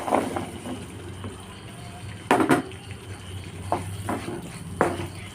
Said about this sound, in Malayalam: ഇനി ഇതിലേക്ക് ചെറി ഇട്ട് കൊടുക്കാം.